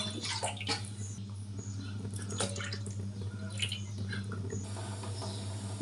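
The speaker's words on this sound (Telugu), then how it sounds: "ఇప్పుడు 2 గ్లాసుల నీళ్ళు పోసుకోవాలి." Two glasses of water pour into a pan of egg curry with tamarind juice, giving a steady splashing trickle with scattered drips and small clinks, close and without talk.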